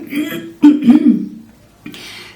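A woman coughs and clears her throat in a few short, rough bursts at close range, followed by a brief pause and a softer throat sound.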